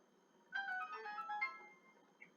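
A phone notification chime plays faintly, a short melodic sequence of bright tones lasting about a second, followed by a brief single blip, heard alone against near silence.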